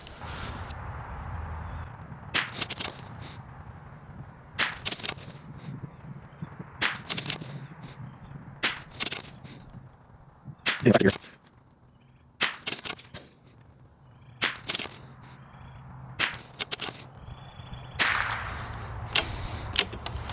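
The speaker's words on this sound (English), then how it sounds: "Actually surprised it's shooting as good as it is." Savage MKII rifle firing Eley Match ammunition outdoors: a series of sharp, close shots spaced roughly two seconds apart, each followed by brief echo and handling noise, with no talk.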